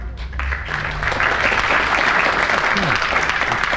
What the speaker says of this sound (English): Clement Freud is quite overcome with that second round of applause